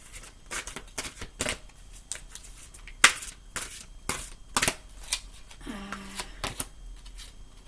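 Tarot cards riffle and snap in short irregular bursts as they are shuffled and pulled, close and fairly quiet, with a brief faint murmur partway through.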